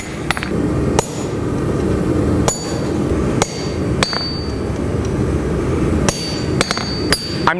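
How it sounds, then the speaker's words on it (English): Hammer blows drive a chisel through mild steel plate, a dozen or so loud, ringing metallic strikes spaced irregularly with short pauses between them. "I'm chiseling over this piece of mild steel plate here"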